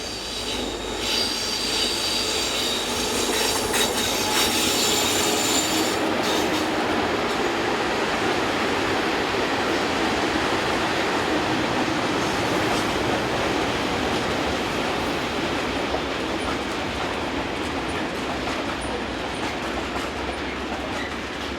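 Freight train 56963, hauled by locomotive 294676 out of Hof near Marktredwitz, Germany, rolls past steadily and loudly for the whole stretch, with rail clickety-clack and wheel squeal throughout.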